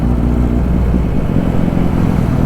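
A Suzuki Hayabusa motorcycle engine revving steadily nearby, a loud continuous throaty drone that holds without break from start to finish.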